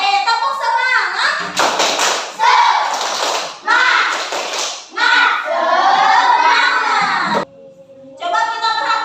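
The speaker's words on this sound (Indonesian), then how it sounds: "Oke, tepuk semangat." A classroom of children claps a rhythmic spirit clap in an Indonesian lesson, loud sharp bursts of hand claps in a patterned beat, mixed with the children's voices chanting along.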